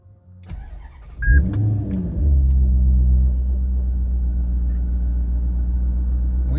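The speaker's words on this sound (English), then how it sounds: "And to start the car," A Maserati GranTurismo fired up with a push-and-hold dash-mounted start button: a brief starter whir, then the engine catches with a loud rumble and settles into a steady, deep idle, close by and with no talking.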